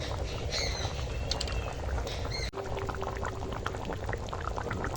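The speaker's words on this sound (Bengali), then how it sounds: "দেখো মাংসটা এখন ফুটছে" A pot of chicken meat curry boils steadily, with a dense, continuous bubbling and simmering hiss at close range. A brief dip occurs midway, and no one speaks.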